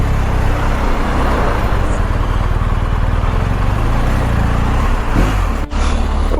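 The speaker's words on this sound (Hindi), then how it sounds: "Welcome to Istanbul traffic again." Istanbul street traffic heard from a large touring motorcycle: loud, steady engine and road roar close by, with a thick low rumble of cars and vehicles around and a brief dip near the end.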